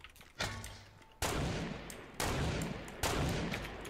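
Fortnite SMG fire during a squad battle royale fight: a short burst, then three loud, sharp broadband blasts spaced about a second apart, each ringing out with a decaying tail, close and without talk.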